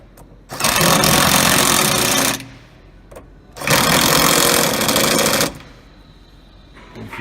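An 18-volt cordless drill drives nuts onto studs while power-fold mirrors are fitted to a Toyota Landcruiser 200 Series. Two loud, steady whirring runs of about two seconds each are separated by a brief pause, and both are close.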